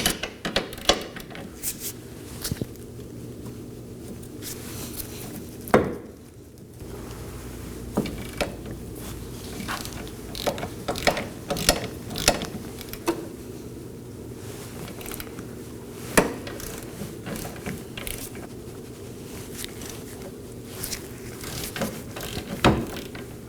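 Ratcheting wrench loosening the 21mm bolts joining the rear trailing arm to the wheel knuckle on a 2018-2024 Chevrolet Equinox: a steady run of close, clicking ratchet strokes with a few sharper metallic knocks, no talking.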